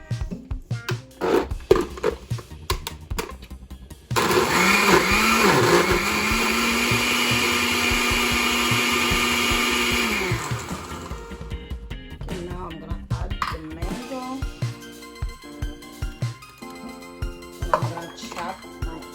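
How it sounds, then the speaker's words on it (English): A blender whirs steadily for about six seconds as it purees a green smoothie with water. Sparse kitchen clatter of dishes and utensils comes before and after the motor, with no talking during it. "I'm gonna blend it first before I add all the other fruit."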